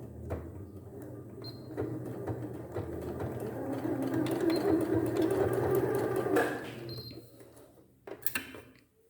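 A sewing machine stitches a gathered sleeve with elastic, beginning and ending with a backstitch. A rapid mechanical whirring run builds and holds for several seconds, then stops, followed by a few light clicks.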